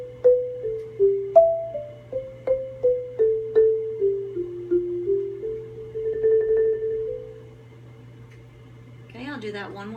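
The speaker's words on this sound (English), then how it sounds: "Line 3 has accents with slurs, which is very different on marimba." Marimba line of accented notes with slurs from eighth-grade mallet audition music, about a dozen struck notes in even rhythm, then a brief rolled passage, played alone and close.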